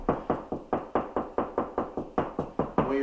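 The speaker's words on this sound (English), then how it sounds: "I like to tap my fingers. Some guys like to really pound on the wall" Fingertips lightly tapping on drywall in a wood frame house, searching for a stud: a steady run of about a dozen crisp, evenly spaced knocks, close and clear, with no voices.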